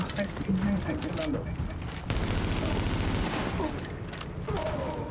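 Bursts of rapid gunfire in the video game The Division, including a dense fusillade in the middle, while players talk excitedly over it.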